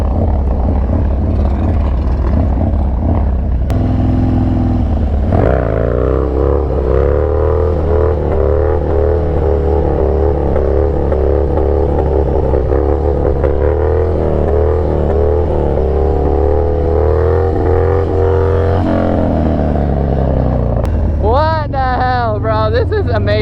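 A Harley Dyna motorcycle engine revs hard during wheelies, a loud continuous throbbing roar with rising and falling pitch sweeps, and a rider talks over it in places.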